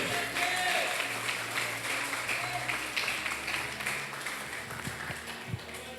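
A church congregation at a Sunday service claps quietly and continuously, soft and somewhat distant, with a low hum underneath.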